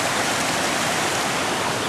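Rushing water of a waterfall in Yabakei, running high over a concrete barrier, fills the air as an unbroken, even roar heard up close without talk.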